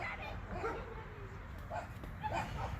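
Several dogs yip, whimper and give short barks during rough play outdoors, with small bursts scattered over steady background noise and engine-like rumble from a pit bike trike project nearby.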